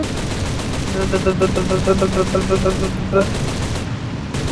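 Machine-gun fire aimed at an aircraft in the video game War Thunder, a steady rapid rattle of rounds over a constant engine drone, lasting about three seconds before cutting off.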